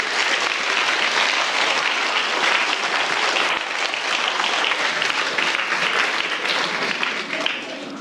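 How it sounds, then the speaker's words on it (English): An audience gives a sustained round of applause, loud, dense and steady for about eight seconds, at a science-themed talk about the periodic table. "Let's have a round of applause for tungsten and molybdenum."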